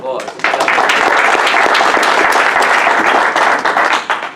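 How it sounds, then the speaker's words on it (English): Conference audience breaks into loud, sustained applause at a natural health event, dense clapping swelling after a brief start and holding steady for several seconds before tapering at the end. "Let's give him a big round of applause."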